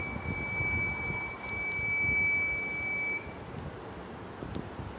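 An Arduino burglar alarm's buzzer module sounds a steady, shrill electronic tone for about three seconds, then cuts off, leaving low background hiss and faint room noise.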